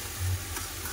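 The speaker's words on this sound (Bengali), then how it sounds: "পেঁয়াজ টমেটো লবণ ভালো করে কষে নেব" Onion, tomato and salt frying in a pan for a spicy fish curry, a steady close sizzle with faint stirring throughout a brief moment.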